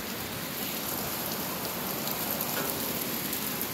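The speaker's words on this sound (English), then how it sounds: "the rain's getting all over me" Heavy thunderstorm rain falls as a steady, fairly soft hiss with no pauses or other sounds.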